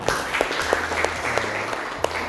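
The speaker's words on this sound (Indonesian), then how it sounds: "tepuk tangan untuk kita semua" Classroom applause as students clap together at the start of an automotive vocational lesson, a steady burst of many hands at close range lasting a couple of seconds, with no talking over it.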